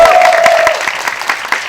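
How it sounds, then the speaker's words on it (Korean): Audience applause at a film screening's audience Q&A in a cinema, with scattered claps from a crowd, starting strong then thinning out, no voices. "박수 한번 부탁드립니다."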